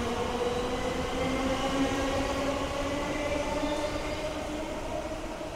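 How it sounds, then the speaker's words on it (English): An Elizabeth line passenger train departing toward Shenfield rumbles steadily with a low hum and faint tonal whine, a continuous rolling sound that slowly eases off, with no voices. "There goes the train. Onward to Shenfield."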